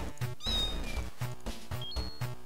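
A cat meows in the Clumsy Paws video game, short close cries over a bouncy game soundtrack with rhythmic beats and rising chime tones.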